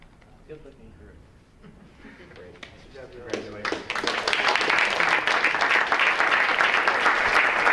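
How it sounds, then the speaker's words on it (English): Applause at a school board meeting for student swimmers, starting with scattered claps under quiet talk and swelling into loud, dense clapping that carries on to the end. "After applause for the swimmers"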